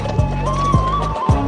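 Racehorses gallop at a Dubai horse race, three heavy hoofbeat thuds landing roughly half a second apart, loud and close over a sustained tonal hum in the background.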